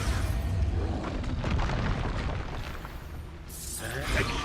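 An Expulso blasting spell explodes in a Hogwarts wizarding game, giving a deep, loud boom that rolls through dense battle rumble, followed by a sharper burst near the end.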